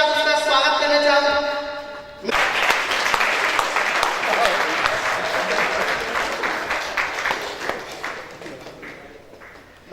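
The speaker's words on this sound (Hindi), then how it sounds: "फिल्म के और दूसरे मुख्य किरदार जोरदार तालियों के साथ उसका स्वागत करना चाहूंगा।" Loud applause from a crowd welcoming a film actor at a muhurat ceremony for a Chhattisgarhi film, bursting in after a musical passage and rolling on steadily to the end with scattered cheers.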